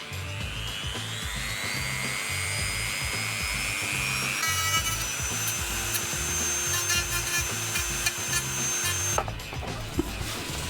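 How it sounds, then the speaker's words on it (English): A power sander whines steadily as it smooths a cut plastic shape for a homemade PlayStation console case, with a rising high tone and continuous abrasive buzz running close and loud for about ten seconds, no talking. "I'm going to need to get the sander out and get in there though"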